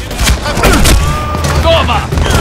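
Heavy shotgun blasts boom close and loud in Medal of Honor Warfighter, several shots packed into a couple of seconds with a voice talking over them.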